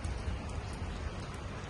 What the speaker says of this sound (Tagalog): Ulan po yan sa baba.